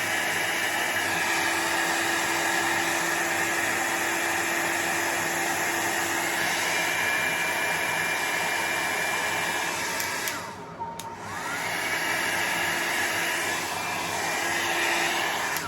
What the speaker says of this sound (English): let me hit this with the dryer